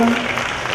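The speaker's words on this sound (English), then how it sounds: "can we give a big round of applause to Encik Ahmad Fakri" Brief burst of audience clapping at a 2017 self-empowerment programme for A Level students, a dense, steady patter of many hands that fills the short moment at moderate loudness.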